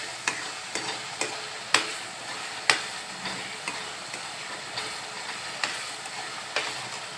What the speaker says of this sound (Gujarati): પેસ્ટને ત્યાં સુધી હલાવતા રહીશું જ્યાં સુધી તેમાંથી તેલ છૂટું ન પડે